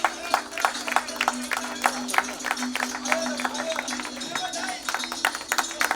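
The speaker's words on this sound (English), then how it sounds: "Join us with a big round of applause." Audience members applaud at a ceremony for the opening of Maharashtra's first semiconductor OSAT plant, a scattered, uneven round of claps over steady background music and a hum.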